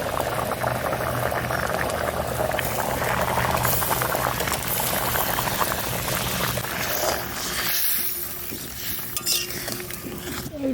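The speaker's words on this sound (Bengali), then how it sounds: "ঝোলটায় ভালো জাল উঠে গেছে, আর আলু কাটাও প্রায় সেদ্ধ হওয়ার মতন" Curry broth with potatoes boiling in an open pot for a dried hilsa fish dish, a close bubbling and gurgling that stays steady, with a brief stir and soft clink of a utensil near the end.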